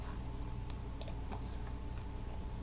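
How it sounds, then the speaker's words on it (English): Quick, light taps on a computer keyboard as a search is typed, a short uneven burst of soft clicks over a faint steady room hum. "I'm just going to type in jQuery effects."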